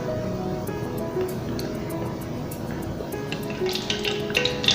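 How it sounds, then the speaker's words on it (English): Liver frying in a hot skillet for Southern liver and onions, giving a steady close sizzle with scattered crackles and faint utensil clinks, no talk over it. "So we hear that sizzle in the skillet. That means it's nice and hot."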